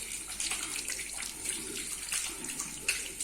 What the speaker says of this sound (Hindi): कम से कम 20 सेकंड तक आपको हाथों को धोना है